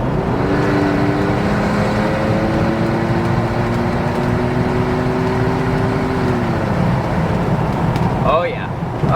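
2022 Ford Bronco with twin-turbo V6 and an electric exhaust cutout open: loud, steady engine drone with a rising tone from inside the cabin, under people talking.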